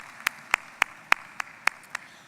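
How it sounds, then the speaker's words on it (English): A single person claps slowly and steadily, about seven distinct claps at an even pace, at a leadership event for an organization, with a quiet room behind. "we can applaud Sam too"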